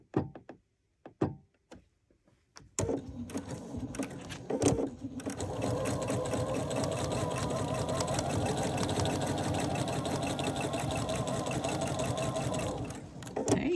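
A home sewing machine stitching the edges of a decorative envelope-closure pillow: a few taps and clunks, then a steady, continuous mechanical whirr running close up until it stops near the end.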